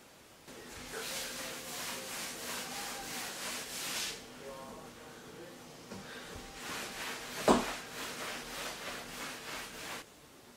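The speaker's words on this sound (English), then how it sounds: "I just went over it again with the terry cloth with the microfiber rags" Terry cloth microfiber rags wiping over freshly grouted tile, a steady rhythmic rubbing and scrubbing in repeated strokes, close and moderately quiet, with a brief sharper knock partway through.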